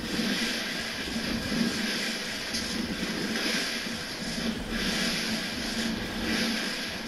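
Steady, loud whirring engine drone of a helicopter in the video game Fortnite, holding evenly throughout with slight swells in intensity.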